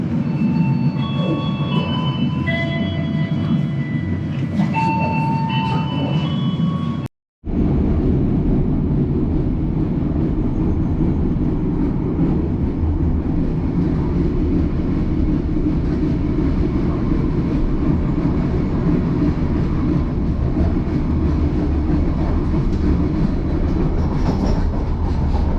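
An Indonesian PT Kereta Api Indonesia Matarmaja train rumbles steadily along the rails at night with a loud, continuous low roar; after a brief chime-like melody, a short cut gives way to sustained running noise.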